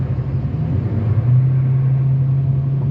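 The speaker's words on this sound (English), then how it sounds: "Let me go ahead and switch lanes and we'll start to accelerate." A small 4-cylinder SUV accelerating on an expressway from about 55 mph, its engine giving a steady, loud low drone with road rumble that holds evenly throughout without a clear rise in pitch.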